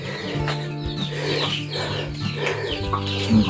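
Chickens cluck steadily and close by on a rural farm plot in the Philippines, their calls continuous over a background hum.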